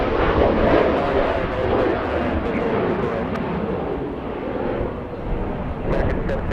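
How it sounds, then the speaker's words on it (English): A SkyWest ERJ 175 jet departs LAX with a broad, steady roar that holds loud through the whole stretch, blended with wind noise and no clear talk. "We have a departure, SkyWest 3660 flying to Tucson, Arizona, ERJ 175"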